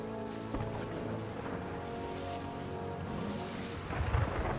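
A thunderstorm at sea in the pirate game Sea of Thieves brings low rumbling and wind, with the wash of waves and rain around a sailing ship. A deeper thunderous surge swells near the end, all without speech.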